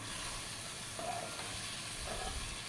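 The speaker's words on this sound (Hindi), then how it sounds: "इसी तरह इनको मिक्स कर लिए।" Black pepper chicken karahi sizzling and being stirred in a pan, a steady frying hiss with two faint scraping stirs, close and without talk.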